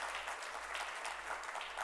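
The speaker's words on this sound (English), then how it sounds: "Let's have a big round of applause." Applause from a conference audience at the Bitosa Global Conclave, a dense continuous patter of many hands clapping, steady and fairly faint throughout.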